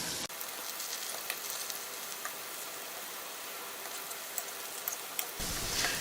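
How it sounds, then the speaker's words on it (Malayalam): Lentil (dal) pieces fry in oil in a pan, giving a faint, even sizzle that runs steadily throughout with occasional soft ticks and pops. "ഏകദേശം ഒരു 5 to 10 minutes ആകുമ്പോഴത്തേന് ശരിക്കും ഫ്രൈ ആകും"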